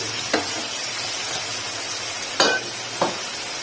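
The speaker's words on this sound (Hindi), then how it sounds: "अब मैं ये दाल डाल दूंगी इसके ऊपर।" Boiled, strained lentils poured into hot tempering and stirred in a pan: a soft, steady sizzle with a few sharp clanks of a spoon against the pot.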